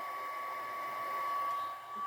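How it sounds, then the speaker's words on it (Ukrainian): Steady whir of the built-in cooling fan in a 6-12V BC-12610 battery charger, a continuous airy hum with a faint constant tone, running alone at an even level. "Зарядний пристрій має активне охолодження, тобто має вбудований вентилятор."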